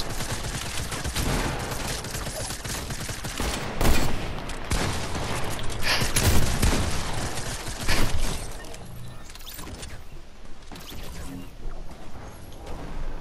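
Rifle gunfire in a shooting game: sharp loud shots ring out over a dense, continuous bed of game noise, with several prominent cracks spaced a couple of seconds apart.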